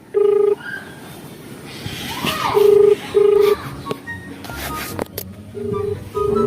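A mobile phone call rings out as a repeated steady electronic tone, sounding in short bursts separated by pauses, with faint background noise and brief indistinct voices between the rings.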